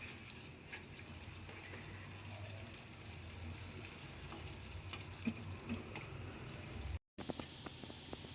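French fries are deep-frying in hot oil, giving off a steady, close, hissing sizzle with faint crackles throughout. A brief cut of silence comes near the end, and no one speaks.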